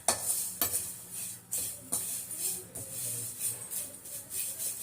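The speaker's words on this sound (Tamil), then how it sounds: "நல்லா ஒரு 5 நிமிஷம் நல்லா வறுக்கணும்" Pirandai dry roasting in a pan, with a steady soft sizzle and repeated scraping strokes of a spatula stirring at an even rhythm, close and moderately loud.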